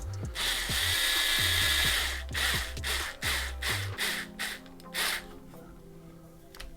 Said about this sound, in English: I'm using the factory team bit with a 1/4 inch drive on it.